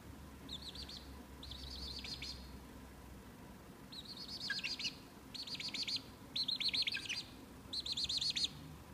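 A moulting chick chirps in a string of quick, high, trilling bursts separated by short pauses, fairly faint against a quiet room hum, with no speech.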